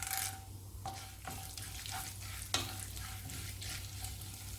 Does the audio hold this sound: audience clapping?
no